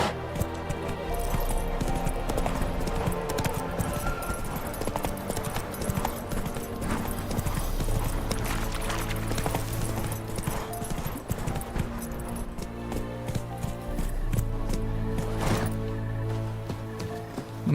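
A horse gallops steadily in The Witcher 3, its rapid clip-clop hoofbeats running continuously and loudly against a dense game soundscape, with brief faint talk.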